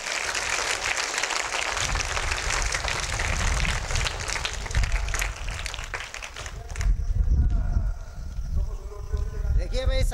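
Enthusiastic applause from a school audience welcoming a guest onto the stage, dense and sustained for several seconds before thinning out as voices take over.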